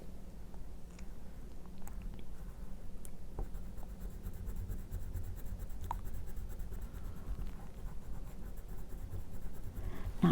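Crayola pastel crayons rubbed across black paper, a continuous soft waxy scratching that runs steadily and close throughout with small tapping accents, no voices.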